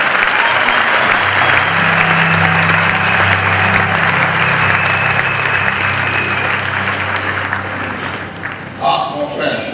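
A church congregation applauding and cheering loudly and continuously, dense clapping that fills the room for nearly ten seconds, with voices mixed into the crowd noise before it tapers near the end.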